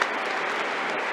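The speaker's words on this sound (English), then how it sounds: "I would like to let this applause continue" Steady, moderately loud applause from an audience at a talk fills the whole short moment, a dense even patter of many hands with no voices.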